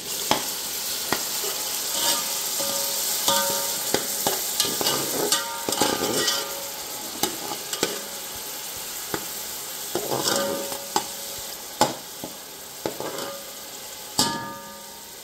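Finely chopped onions and thyme fry in a pot for mutton stew, a continuous close sizzle broken by repeated scraping stir strokes and clacks of the spoon, with no talk.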